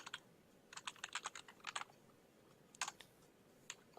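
Typing on a computer keyboard to enter a server command in a Minecraft console: quick bursts of soft key clicks, close and moderately quiet, with short pauses between clusters and no talk.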